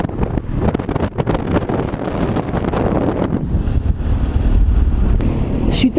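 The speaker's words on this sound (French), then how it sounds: "Je me suis arrêtée pour que vous entendiez le vent." Loud wind buffeting roars against an opened motorcycle helmet on a road toward Col du Gratteau, a continuous rough rush of air with gusty swells throughout.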